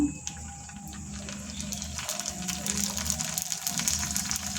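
Small pani puri dough rounds dropped a few at a time into hot oil, giving a steady broadband sizzle and bubbling with faint low hum beneath, fairly close and continuous.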